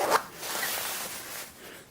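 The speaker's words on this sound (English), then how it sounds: "And then we have the zippers here." A zipper on a MOERDENG ski jacket gives a short, close rasp at the start, followed by softer fabric rustling, with no talking.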